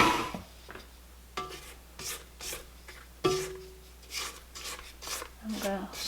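Brown and white sugar are stirred into peanut butter cookie dough, giving repeated close scraping and rubbing strokes at an uneven pace, with a low background hum.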